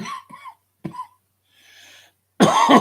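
A few rough coughs come close and fairly loud, with a quiet breathy pause between them, ending in a harsh, strained burst.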